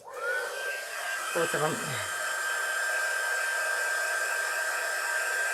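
A hair dryer runs steadily throughout, drying paint on a light-up tea light word ornament, with a brief spoken exchange near the start over the constant whir.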